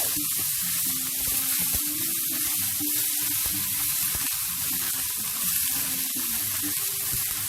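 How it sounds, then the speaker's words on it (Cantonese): Garlic, ginger and shallots stir-fry in hot prawn oil in a wok, giving a constant close hiss and sizzle with scattered light clatters from stirring. "用翻呢個蝦油啦，爆下我哋蒜頭、薑同埋紅葱頭"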